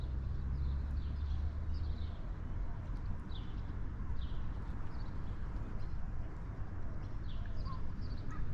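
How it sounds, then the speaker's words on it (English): Faint gull cries repeat in the distance over a steady background hiss in Hobart, Tasmania, with no talking. "those gulls I can hear"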